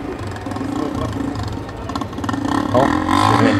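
Recorded motorcycle engine sound played from a bicycle as a street prank, a steady revving drone that rises toward the end, with people talking over it.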